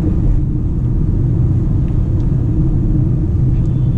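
A Kia Seltos 1.4 liter petrol engine runs steadily with a low, smooth rumble, heard from inside the cabin at a constant, even level.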